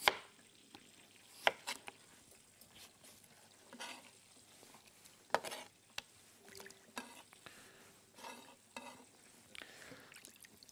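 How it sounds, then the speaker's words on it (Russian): Potatoes sliced thinly into rounds with a knife on a cutting board in a kitchen, a series of close, irregular knocks and cuts with short gaps between them. "Картошку я нарежу пятаками. Достаточно тонко нарезаю."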